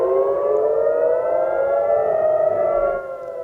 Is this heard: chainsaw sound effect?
no